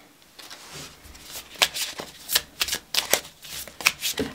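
A deck of tarot cards is shuffled nearby in a rapid, riffling series of crisp flutters and slaps with no voice over them.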